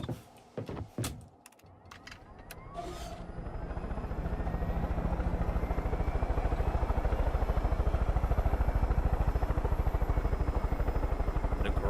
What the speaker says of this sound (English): let's get a helicopter and rock and roll.